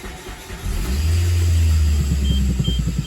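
A 2007 Suzuki SX4 engine runs close by, rising into a louder rev, then a rapid rattling clatter from a failing AC compressor drive pulses beneath the steady hum.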